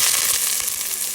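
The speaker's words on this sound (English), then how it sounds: "So I guess we're gonna start sauteing the onion and the garlic." Onion and garlic sautéing in a pan for pork and chicken adobo, a steady close hissing sizzle throughout a short moment with no speech.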